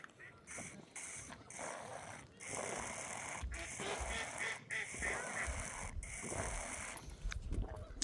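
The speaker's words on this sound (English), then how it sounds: "Do you viewers like ducks? Because we've got plenty to see right here." Ducks quack repeatedly at a pond on a dog walk at Barrett Domain, a busy cluster of calls with honk-like tones, fairly close, over outdoor noise.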